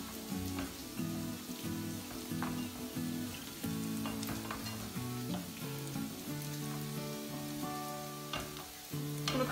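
A large onion sizzles and fries steadily in a big pan while being stirred for tarhana bulgur meatballs, a dense continuous crackle with scraping stir sounds over a low background of what sounds like music, no talking.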